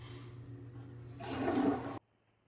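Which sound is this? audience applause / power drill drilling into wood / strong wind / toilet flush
toilet flush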